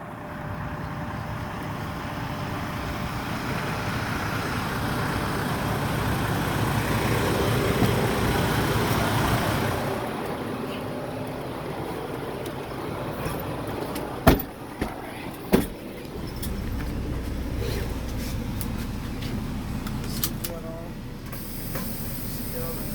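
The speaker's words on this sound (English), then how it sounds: "So now we're going to pull up to the cone right here and set it up." A truck pulls a trailer slowly up to a traffic cone for right-side parallel parking, with a steady hissing engine drone, a brief drop in noise, then sharp air-brake-like pops before the rumble returns.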